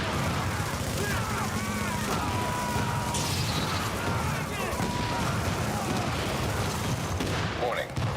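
Explosions and heavy gunfire rumble and crack through a loud battle in The Division video game. The racket stays steady for the whole stretch, with voices heard through the din.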